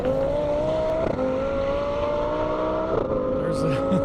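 Lamborghini Huracan and Toyota Corolla racing side by side on an airstrip, a loud sustained engine drone with rising revs and gear shifts, continuous throughout with crowd noise and a commentator talking over it.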